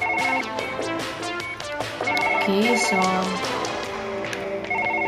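A telephone rings in the Surgeon Simulator video game, its electronic ringtone pulses repeating beneath a voice and a busy game music bed.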